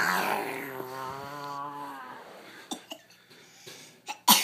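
A child's cough, starting with a rough, growly throaty burst, followed by quieter breathy sounds and a few short sharp noises at close range.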